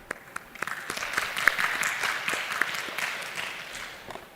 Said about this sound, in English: let's have one final round of applause for all of our speakers and